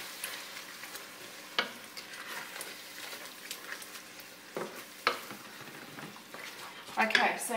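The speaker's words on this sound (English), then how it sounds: "and then we've got our mince cooking down" Beef mince cooks down in a pan with a steady sizzle, broken by several sharp scrapes and knocks of stirring and a louder clatter near the end.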